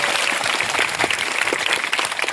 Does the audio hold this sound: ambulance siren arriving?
no